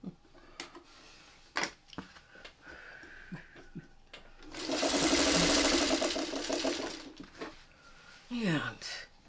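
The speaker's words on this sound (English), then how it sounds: "It starts to stitch." A sewing machine stitches in a rapid, even mechanical run of about two seconds, between scattered clicks and handling sounds, with people talking around it.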